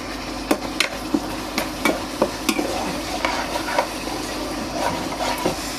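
Tamarind pulp with turmeric, salt and jaggery cooking in oil in a pan, a low sizzle under repeated sharp scrapes and taps of a spoon stirring, irregular strokes close by, no talking.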